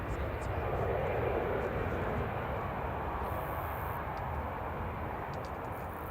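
A plane touches down at Manchester Airport, its engines making a loud, steady roar that swells early and holds at close range throughout, with no break.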